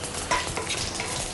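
Sliced onion frying in hot oil with mustard seeds and dried red chillies for a drumstick-leaf thoran, a steady close sizzle with scraping stirs, no voices.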